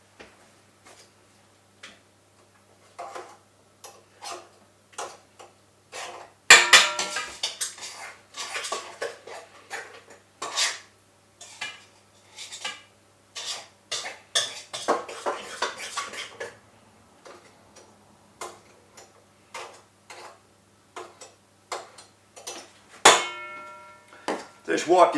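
A metal knife scrapes and clanks against a stand mixer's beater while clearing butter and egg from a lemon cake batter, giving a run of close, irregular clinks and scrapes that grow busier partway through, with no talking.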